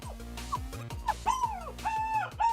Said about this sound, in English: I hear the puppy is so whining right now.